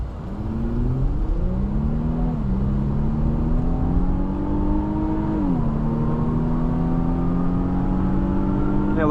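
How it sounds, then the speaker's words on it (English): A 2023 Infiniti Q50 Luxe V6 with 300 horsepower accelerating from inside the cabin, a steady droning engine note rising in pitch through the gears, with shift dips around two and five seconds, continuous and fairly loud with no talking. "the V6 sounds really good too in this vehicle"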